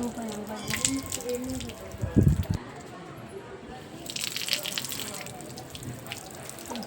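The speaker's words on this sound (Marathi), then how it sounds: "तर आपण थोडे हातपाय धुवून घेऊ." Tap water splashing as hands and feet are washed at an outdoor temple washing facility, with irregular running and dripping water and a louder splash near the middle; people talk faintly throughout.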